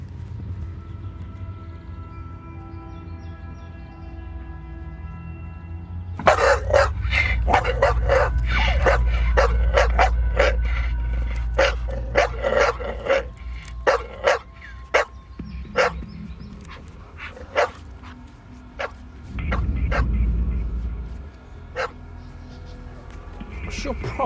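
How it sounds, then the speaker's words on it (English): A dog barks near a parked car, a long run of sharp barks in a steady rhythm, loud and close, with people talking over and between them. "The dog's scaring my boy"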